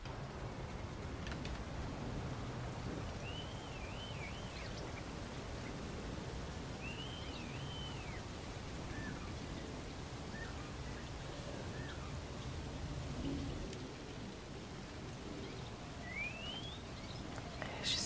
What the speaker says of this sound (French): Je sais pas si vous entendez la pluie également.